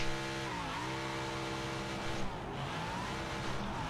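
A 2,000-horsepower drag car launching in the BeamNG.Drive video game, a steady loud engine roar whose pitch dips and climbs through a shift, with a faint tire squeal and no talk.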